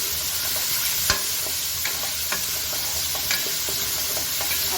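Chicken pieces fry in ghee over a medium flame for bhindi gosht, giving a steady close sizzle broken by occasional clicks and scrapes of stirring.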